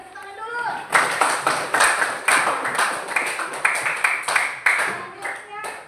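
A classroom of students applauds in an Indonesian lesson. The clapping is loud and close, coming in rhythmic bursts of hand claps that swell and ease for several seconds, with voices mixed in.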